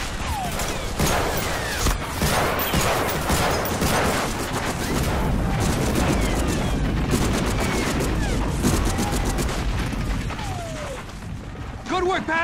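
Dense, continuous gunfire and explosions from bunkers in the Xbox video game Medal of Honor Frontline, a loud unbroken battle din with overlapping shots and blasts throughout.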